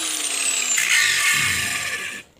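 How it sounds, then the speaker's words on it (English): A thin cutting wheel on a Dremel rotary tool nicks a metal adapter piece during oxygen sensor replacement on a Nissan Xterra, giving a close, steady high-pitched grinding whine that intensifies midway and cuts off near the end. "I may just go ahead and take a cutting wheel, a thin one, just kind of nick this"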